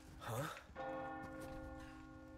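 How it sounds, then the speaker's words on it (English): A church bell rings in the Resident Evil 4 Remake video game, a loud sustained toll with long humming overtones following a brief shouted voice at the start. "Oh, the bell! The bell! The bell!"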